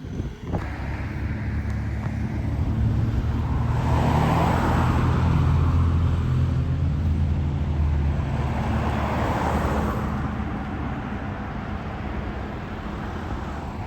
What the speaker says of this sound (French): Donc c'est une 850 apparemment, une 850i. Donc avec le V12.